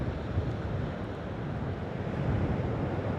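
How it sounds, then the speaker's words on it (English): Strong coastal wind on Phillip Island buffets the microphone as a continuous, loud low rumble, with the wash of surf mixed into the blustery roar throughout. "It's really windy,"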